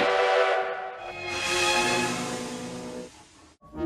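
A cartoon train horn blares loud and sustained for several seconds, a steady harmonic whistle tone with rumbling train noise beneath, fading briefly near the end.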